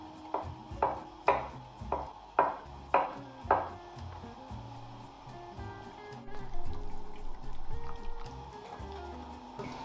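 A knife chops through blocks of tofu on a board in about seven sharp, evenly spaced cuts, then quieter kitchen clatter and shuffling follow, with no talking.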